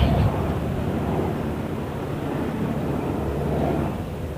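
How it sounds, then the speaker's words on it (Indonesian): An airplane passes overhead near a fish market in Brunei, a steady broadband roar that holds level for several seconds, with wind-like rumble and no talk. "Suara pesawat."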